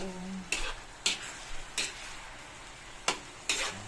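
Sweet and sour pork meatballs cooking in sauce in a pan, with a soft bubbling sizzle broken by five sharp clinks of a utensil against the pan, spaced irregularly.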